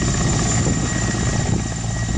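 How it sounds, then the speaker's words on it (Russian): Helicopter approaching over the Kanin tundra during a reindeer herders' holiday: a loud continuous rotor and engine roar, steady throughout with no voices. "Около полудня в небе раздается звук приближающегося вертолета."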